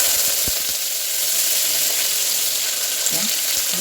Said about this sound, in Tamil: வெங்காயத்தை போட்டு நல்ல முறையில் வதக்கிடுவோம்